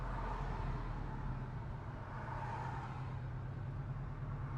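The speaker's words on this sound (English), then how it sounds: "even when it throttles down, there's that lovely rumble that you hear as well" Porsche Cayman 718 mid-engined sports car giving a steady low engine rumble as it throttles down, a continuous close drone with no talk over it.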